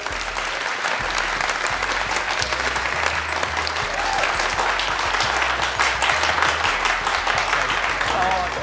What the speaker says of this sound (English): Big round of applause for those answers.